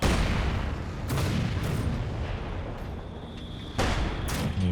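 Mortar fire in the strategy game Company of Heroes 2, several deep booming blasts rising out of a dense, rumbling battlefield din, loud and close with no talk.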